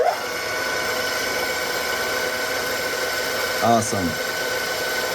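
A Big Daishowa high speed spindle increaser spins at 7,500 RPM on a CNC mill, giving a steady high-pitched whine with a constant hum throughout, and a brief spoken word near the end.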